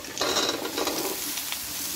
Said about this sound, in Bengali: এবারে আমি ডুমো ডুমো করে কেটে রাখা লাউগুলো দিয়ে দিচ্ছি